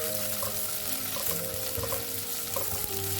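Chopped onion goes into hot oil with curry leaves and mustard seeds for a Kerala-style meal, giving a steady close sizzle and frying hiss with faint stirring clinks throughout.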